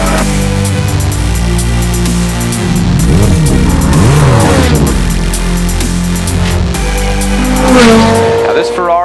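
A Ferrari F430 F1 sports car engine runs loudly and steadily throughout, with rising and falling revs and a sweeping pitch change midway, while a voice talks over it.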